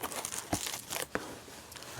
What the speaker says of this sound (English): I feel a plastic bag.